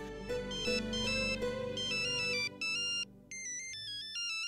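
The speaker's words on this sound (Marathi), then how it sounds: "सिंधूचा फोन आहे." An electronic phone ringtone plays a bright, repeating melody of clear tones, loud and close with short pauses between phrases.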